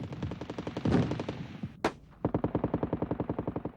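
Street gunfire: rapid bursts of close, sharp shots in quick rhythmic succession, a short pause with a loud crack, then another steady burst of repeated shots, with no talking.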